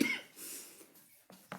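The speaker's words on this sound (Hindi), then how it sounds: "मुझे बहुत खांसी आ रही है" A woman giving a spoken remembrance at a literary memorial programme coughs: a short, harsh burst, a breathy pause, then a second quick cough, all close to the microphone and fairly quiet.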